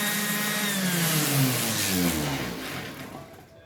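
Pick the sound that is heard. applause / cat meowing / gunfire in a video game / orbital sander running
orbital sander running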